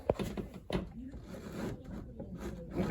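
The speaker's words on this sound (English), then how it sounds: "now when I'm closing the door, you can hear" A Ford Escort Mk2 being prepared for rally has its door pushed shut against a compressing rubber seal, giving two close, dull thumps a moment apart, followed by quieter handling noise.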